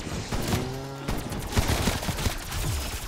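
An AK rifle fires in Cold War Zombies, with rapid automatic gunfire in dense bursts mixed with game sound effects, loud and continuous over a few seconds.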